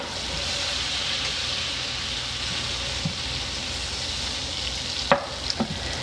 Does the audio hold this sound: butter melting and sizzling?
yes